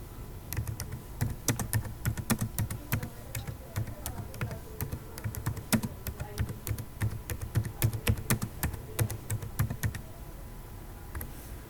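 Someone types a query on a computer keyboard, with a long run of quick, close clicks at an irregular rhythm and brief pauses between bursts. Low background hum underneath, no speech.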